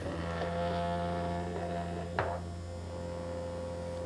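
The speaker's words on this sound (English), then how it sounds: "Doesn't quite sound like an ultrasonic cleaner. Kind of sounds like maybe a vibrator motor." A low, steady electric hum from a cheap ultrasonic cleaner drones throughout, like a small vibrating motor, with a faint click partway through.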